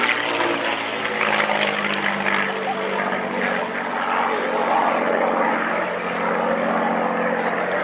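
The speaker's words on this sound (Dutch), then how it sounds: "deze prachtige Mustang vandaag hier op Technology Base in Twente" A P-51D Mustang propeller fighter performs a display at the Twente airshow, its engine droning steadily and loudly throughout, with a commentator's voice faintly over the roar.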